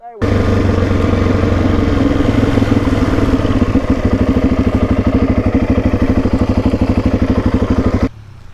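A dirt bike engine runs steadily and loudly on a track in outback Australia, its pulsing mid-range drone holding strong throughout as the bike comes closer, then cutting off abruptly near the end.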